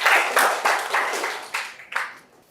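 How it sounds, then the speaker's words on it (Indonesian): Applause for Mas Yuda and Mas Yunifan during a classroom teaching session: a short burst of close clapping that rises quickly, then tapers off into scattered claps. "tepuk tangan dulu ya buat Mas Yuda dan Mas Yunifan ya"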